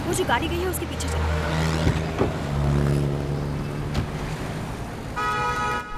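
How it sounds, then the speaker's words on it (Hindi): A taxi's engine drones steadily as it pulls away to follow another car, mixed with dramatic background music and scattered hits, with a bright tonal sting near the end. "टैक्सी, वो जो गाड़ी गई है उसके पीछे चल।"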